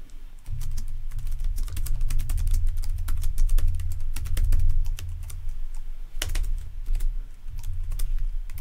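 Someone types code on a computer keyboard in a fast, steady stream of close, crisp key clicks that pauses briefly once before resuming, with no voices.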